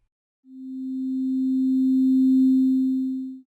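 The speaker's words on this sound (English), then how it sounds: "So the attack, we can make it take, 2. So let's listen to what it sounds like when we do that." A single pure sine-like synth tone from Sonic Pi, a steady low note that swells gradually over about two beats, holds for a few seconds, then cuts off quickly, with no other sounds.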